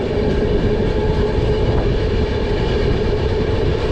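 Nanda Devi AC Express train running between Dehradun and Kota on a foggy route near Bayana Junction, a steady, loud rumble of wheels and carriage noise heard from on board.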